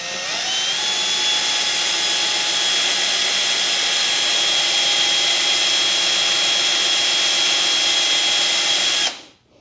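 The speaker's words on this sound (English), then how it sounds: "get the drill up, get the drill down, and just make sure everything is lined up" A power drill bores into a Chessnut Air chess piece with a loud, steady high whine that holds for about nine seconds, then cuts off abruptly.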